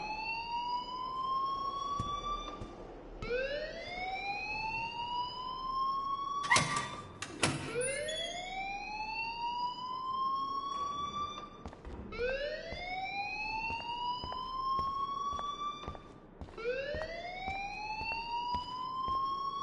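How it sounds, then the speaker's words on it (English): Alarm wailing in the video game Life Is Strange, a loud continuous siren that sweeps upward over and over in a steady cycle, with a brief burst of noise partway through and no talk. "please turn off that alarm since that's your job"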